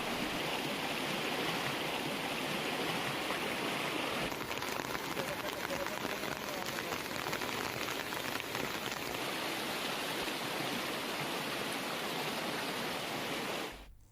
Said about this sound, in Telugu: పాలేరు వాగు పొంగి వంతెనపై నీరు ప్రవహిస్తూ ఉండటంతో